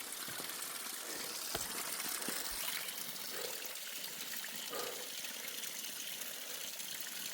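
A small stream of water trickles and gushes steadily along the Appalachian Trail near Moosilauke, a continuous soft wash of flowing water heard up close without voices.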